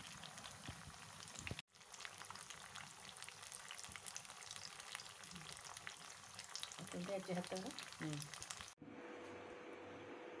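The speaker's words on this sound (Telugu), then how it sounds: "2 సైడ్స్ కూడా మనం బాగా అటు ఇటు తిప్పుకుంటూ వేయించుకోవాలండి. బాగా ఫ్రై అవ్వాలి." Fish pieces fry in hot oil, turned from side to side, a dense, steady crackling sizzle that sounds fairly faint and distant, with abrupt cuts near the start and end.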